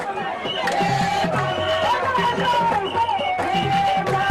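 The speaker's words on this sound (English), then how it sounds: "resulting to huge crowds at UDP rallies across the country" Huge crowd at a UDP political rally in the Gambia, a continuous roar of cheering and chanting voices with rhythmic pulses, dense and loud throughout.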